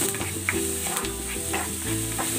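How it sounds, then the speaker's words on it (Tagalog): Chopped onion sizzles in a hot pan with garlic and ginger as it is sautéed and stirred for a vegetable soup. The frying crackle is loud and continuous, with light scraping and clinks of the utensil and no talking. "Igigisa ko na rin tong sibuyas."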